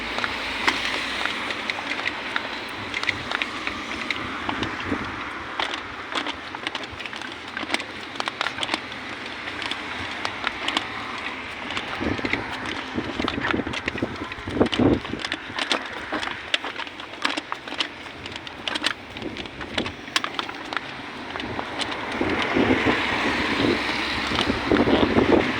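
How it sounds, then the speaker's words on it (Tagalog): Strong wind buffets the microphone outdoors on a trek, a continuous roaring rumble with gusty surges and crackles that grows harsher toward the end. "Malakas ang hangin."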